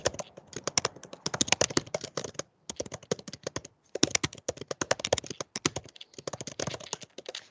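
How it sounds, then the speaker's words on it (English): Rapid clattering keystrokes on a computer keyboard in bursts, with brief pauses between flurries, fairly close and steady. "I hear Hatton typing"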